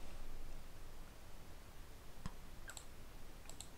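A single computer mouse click on a start button in a Unity multiplayer game menu, faint and close over a soft hiss, followed by a couple more light clicks, no voice.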